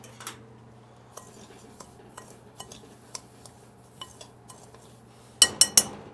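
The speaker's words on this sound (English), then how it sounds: "Stir it up a little bit." A utensil clinks against a bowl while seasoning is stirred into breadcrumbs for vegan cheese sticks, giving a series of light, scattered taps that end in three louder clatters.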